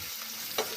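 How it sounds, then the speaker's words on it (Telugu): Urad dal, garlic, dried red chillies and curry leaves fry in hot oil for tempering in a pan, giving a short steady sizzle with a brief sharper crackle near the end. "మినపప్పు, వెల్లుల్లిపాయ, ఎండుమిరపకాయ, కరివేపాకు అన్నీ వేసుకొని ఫ్రై చేసుకోవాలి"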